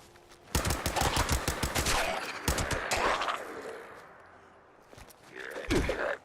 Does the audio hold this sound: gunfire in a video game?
yes